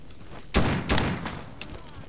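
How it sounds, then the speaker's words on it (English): A burst of gunfire from a non-player character in the shooter STALKER Anomaly, two loud close shots followed by fainter scattered reports, with no talk. "I'm not sure what he's shooting at right now."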